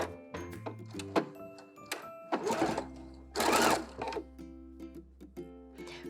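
A sewing machine stitches picot elastic onto a bralette in short, quiet runs of mechanical whirring with clicks and thunks between the bursts, heard close and alone.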